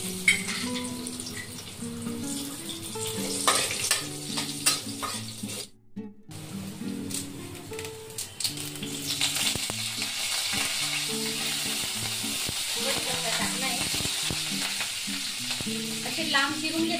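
Cumin seeds and finely chopped garlic frying in oil in a pan, a steady close sizzle with stirring scrapes and occasional clinks throughout.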